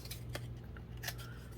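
Scissors snip a paper tag for a junk journal, two or three quiet separate cuts over faint background hum, with no one talking.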